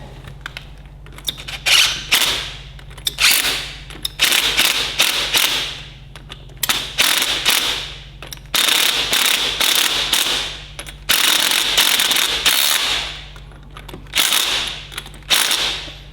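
Ratchet spinning nuts onto studs while reassembling the hydraulics of a Ferguson TEA20 tractor: repeated bursts of rapid clicking, close and fairly loud, separated by short pauses over a steady low hum.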